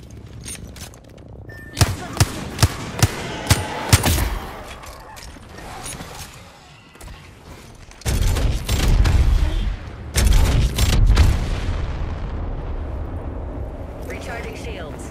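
Video game combat brings bursts of gunfire and heavy explosions, a rapid string of sharp shots early on followed by loud, booming blasts. Voices speak in between the bursts.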